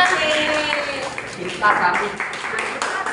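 A classroom of students applauds a presenting group, a dense patter of clapping that keeps going throughout, with voices mixed in.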